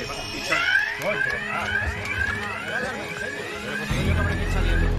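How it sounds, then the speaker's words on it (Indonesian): An electronic fire alarm whoops in repeated rising sweeps, loud and continuous, with people talking over it and a low rumble building near the end. "membuat alarm kebakaran berbunyi sehingga semua orang menjadi panik"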